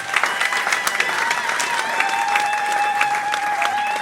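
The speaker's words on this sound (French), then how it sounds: "Acclamons très fort pour le Seigneur" Loud applause from a church congregation at a religious wedding, steady clapping with some cheering voices throughout, continuous and close.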